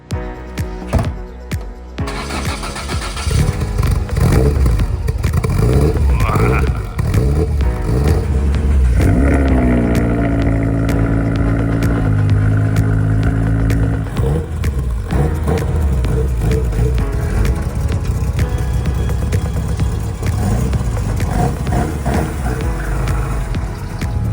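A tuned Toyota AE86 Hachiroku is driven on the road in Texas. The engine drones steadily, close and loud, rising and falling in pitch as it revs up and shifts through the gears.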